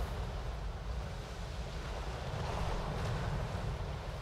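Ocean surge and rolling wave noise from a rogue wave at sea in the pirate video game Skull and Bones, a steady, fairly faint wash with wind-like rumble and no talk.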